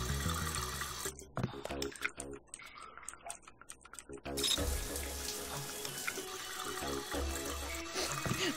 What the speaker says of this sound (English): Turn on all the water.